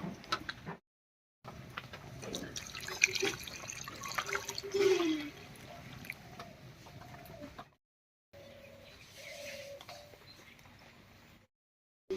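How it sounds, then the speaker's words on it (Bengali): Warm water is poured over pangas fish in a kitchen, making a running, splashing flow that comes in two stretches separated by short silences. It is close but fairly quiet. "জলটা হালকা গরম হয়ে গেছে একবার মাছের উপরে ঢেলে দেবো"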